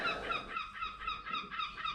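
A seagull calls outdoors near someone working on a car, giving a steady series of harsh, honking cries at moderate distance over faint background noise.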